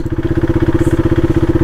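Motorcycle engine, apparently a 390, idling close by with a steady, rapid rhythmic pulsing throb that stays even across the whole stretch.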